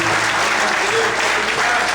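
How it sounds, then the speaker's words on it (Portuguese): A church congregation applauds during a worship service: steady, dense clapping fills the room throughout, with faint voices mixed in beneath it. "Você consegue aplaudir ao Senhor? Com alegria."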